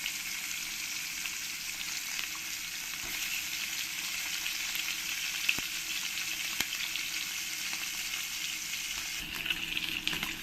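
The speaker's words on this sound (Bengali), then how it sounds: "এবার আমি এই মাছগুলোকে এক এক করে তেলের মধ্যে দিয়ে দেবো। দিয়ে ভালো করে আমি লাল লাল করে ভেজে নেব।" Tilapia fish pieces fry in hot oil with a steady, close sizzle and crackle, occasional sharp pops and faint stirring, with no voices.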